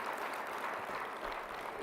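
Audience applause for Philadelphia Mayor Michael Nutter at a community college national legislative summit, a steady, fairly faint wash of clapping that fills the whole moment without letting up.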